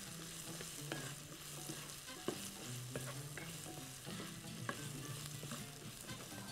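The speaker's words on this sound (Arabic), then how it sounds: "هنحط شويه كزبره، شويه شطه صغيره، ونرجع نقلب" Okra frying with coriander and small chilies in a pan, stirred with a utensil: a continuous soft sizzle broken by repeated scraping and clinking strokes against the pan, fairly quiet and close.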